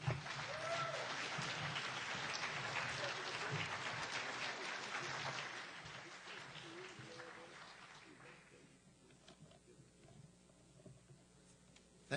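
An audience applauds as Peter Dale Scott is welcomed to the lectern, a steady, fairly loud round of clapping that fades out over several seconds.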